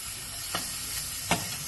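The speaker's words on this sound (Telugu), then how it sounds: "వేసుకుని కొద్దిగా వేగనివ్వాలి." Onion, garlic and ginger frying in butter for mushroom soup, a soft continuous sizzle broken by two brief stirring scrapes, close and alone with no talking.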